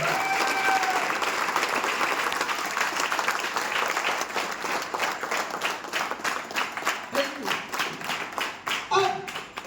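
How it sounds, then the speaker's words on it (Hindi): An audience at a motivational seminar claps loudly together, starting as dense, sustained applause and then thinning into scattered, rhythmic individual claps toward the end. "एक बार जोरदार ताली अपने खुद के लिए बजाएं"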